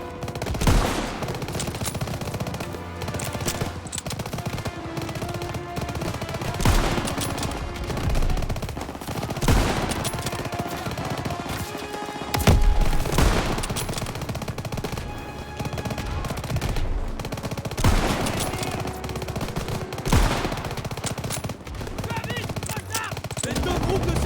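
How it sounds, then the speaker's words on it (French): Heavy anti-tank gun blasts from a German Pak 38 mixed with rifle and machine-gun fire in the Call of Duty WWII game battle, loud booming shots recurring every few seconds over dense, continuous combat noise and music. "Un servant tire avec ce pack 38! Et c'est nos chars qui sont visés!"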